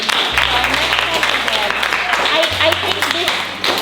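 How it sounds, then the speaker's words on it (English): A class of students claps their hands together, a short, dense burst of many overlapping claps heard nearby over a low steady hum. "so clap your hands"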